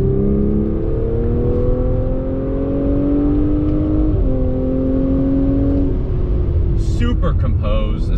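A 2021 Audi S5 Sportback accelerates hard in second gear, its engine note rising steadily, holding loud and close from inside the car before easing off near the end.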